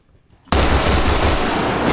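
Sustained loud gunfire in the military shooter game Arma Reforger, a dense continuous burst that cuts in abruptly after a brief quiet moment and stays close and harsh throughout.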